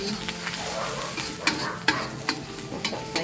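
Vegetables being stirred in a frying pan while cooking, with a steady sizzle and several scraping stirs of the utensil against the pan, close and moderately loud. No one speaks.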